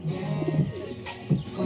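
Pigeons coo nearby in soft, low, rolling calls, several short bursts in succession with a few faint chirps in the background.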